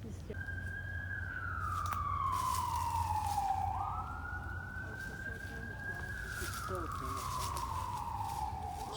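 Distant emergency vehicle siren wails steadily, sliding slowly down and up in pitch over a soft outdoor background at a nature center.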